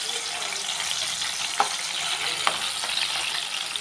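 Round slices of ooli fish fry in a pan with a steady, hissing sizzle close by, broken by a couple of faint knocks, and nobody speaks.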